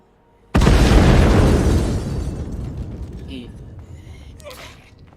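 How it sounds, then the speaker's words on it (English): A bomb explosion in the zombie survival game State of Decay 2 as a store's windows are blown out: one sudden loud boom with a long rumbling decay, followed by faint scattered debris sounds. "Why did you put bombs in this store? Because I was trying to blow out all the fucking windows."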